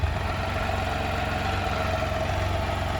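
A 2017 Can-Am Spyder three-wheeler sits idling, its engine giving a steady, even low rumble with a regular pulse throughout, close and fairly loud, with no one talking.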